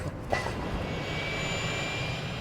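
An airplane in the city-building game Workers & Resources: Soviet Republic gives a steady, loud engine drone that holds evenly throughout.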